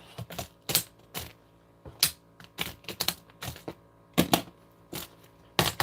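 An embroidery sewing machine stitches a filler block in irregular clusters of sharp, quick clacks and taps, some bursts dense and rapid, others sparse, heard close and moderately quiet with no talking.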